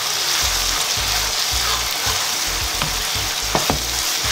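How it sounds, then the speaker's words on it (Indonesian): Shredded chicken with spices stir-fries in a pan for abon ayam, giving a steady loud sizzle with rhythmic scraping stirs throughout and no voices. "sekarang kita tumis sampai benar-benar kering, sampai bumbunya itu apa sih rada kecoklatan"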